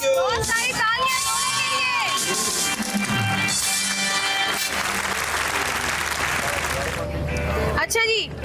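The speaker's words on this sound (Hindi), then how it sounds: "बहुत सारी तालियां" A studio audience on an Eid television show applauds and cheers, with a dense wash of clapping and whoops building midway under lively overlapping voices and music, then cutting off near the end.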